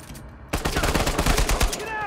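Rapid automatic gunfire in the action-adventure video game Uncharted: Legacy of Thieves Collection starts abruptly after a quiet half second, with a quick run of loud, closely spaced shots continuing to the end.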